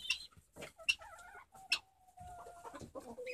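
Hens and a rooster roosting on perches in an evening coop give soft clucks and drawn-out calls, scattered and fairly close, with no talking.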